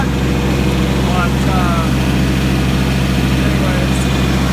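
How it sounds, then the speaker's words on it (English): A tractor engine runs steadily at close range during bush hogging and mowing work, a constant low, heavy drone that holds throughout while faint speech sits beneath it. "don't know if you can hear me over the tractor or not"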